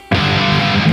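A distorted electric guitar plays an octave lead line with a half-step bend, one loud, thick sustained note ringing steadily for about a second.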